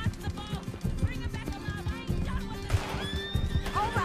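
Horse in Red Dead Redemption 2 neighing and galloping, rapid clip-clop hoofbeats thudding beneath whinnies, with a player's excited voice talking over the action.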